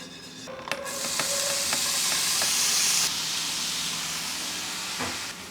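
Food frying in a thinly oil-coated pan, a continuous sizzling hiss that swells after the first second, with a few sharp clicks and scraping stirs, close and fairly quiet, no talking.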